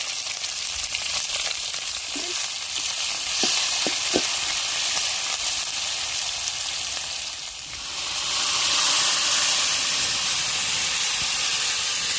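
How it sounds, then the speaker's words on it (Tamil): Onion, tomato, vegetables and curry leaves dropped into hot oil for sambar hiss and sizzle steadily up close, with a few sharp clicks of a ladle early on and a louder surge of sizzling later. "எண்ணெய் சூடாயிருச்சுங்க கடவுள் வந்து போட்டுக்கிறோம் வெங்காயம் தக்காளி பச்சைக்காய் போட்டுக்கிறோம் ரெண்டு கருவேப்பிலை போட்டுக்கிறோம்"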